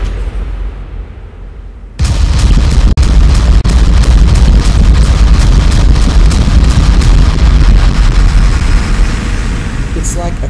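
A MASC siege weapon fires in Natural Selection 2: after a quieter start, a loud, dense run of booming impacts with heavy bass pounds in rapid succession, with a voice talking over it.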